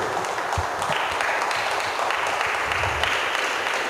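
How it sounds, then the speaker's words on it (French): An audience applauds on a French television set at a Vendée presentation, giving a sustained wash of clapping that holds at an even level throughout. "ça mérite vraiment beaucoup d'applaudissements"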